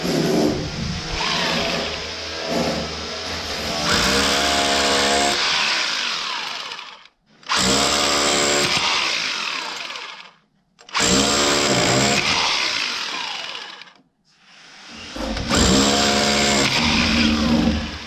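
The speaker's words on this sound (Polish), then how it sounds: "wiertara." Power drill used for DIY home plumbing work, running loud and close in four long bursts separated by short silent pauses, with no voices.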